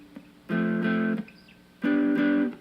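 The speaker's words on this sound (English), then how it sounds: "Higher G. There's a big jump now." Rock lead guitar plays two short distorted phrases jumping up to a high G, each a bright sustained burst of picked notes lasting under a second, separated by a pause, close and alone.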